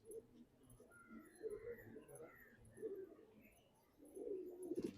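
Pigeons coo softly in a loft, with low, rounded calls rising in several bursts over faint background noise, the closest and loudest near the end.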